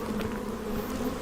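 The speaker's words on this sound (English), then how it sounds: "The bees are really freaking angry." Angry bees buzz continuously in the video game PEAK, a steady droning hum at moderate level with no talk over it.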